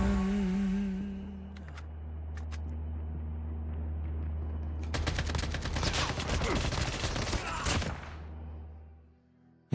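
Rapid AK47 automatic gunfire from a mobile shooter game, a dense burst of loud shots over a steady low engine-like drone, running for about three seconds before cutting off, with quieter isolated shots earlier.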